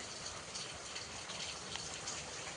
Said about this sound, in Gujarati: વરસાદ તો જો હવાર દિનો ચાલુ છે પવન નથી એટલે સારું છે